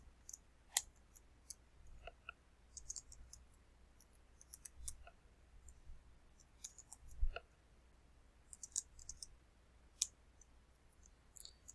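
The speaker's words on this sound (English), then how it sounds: "Excuse me a moment while I type." A computer keyboard is typed on while a program is written, faint irregular clicks in short clusters with gaps, alone and without speech.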